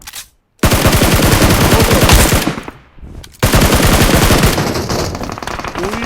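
Sustained automatic gunfire in the mobile battle royale game PUBG Mobile: loud, close bursts of rapid shots with two brief pauses between them, with faint talk under the shooting.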